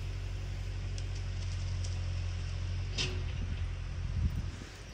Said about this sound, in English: Sorry for the noise here on the backhoe.